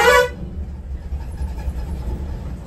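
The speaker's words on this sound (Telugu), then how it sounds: "Horn hello చెప్పుకుంటున్నట్టున్నారు." A loud burst of vehicle horn opens the clip on a highway where traffic has jammed behind a wind turbine transport, then gives way to a steady low rumble of idling and passing traffic.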